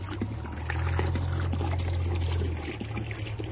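Water pours from a vessel onto small flowering potted plants, a steady near splash and trickle that swells in the middle and then eases off, with no voices.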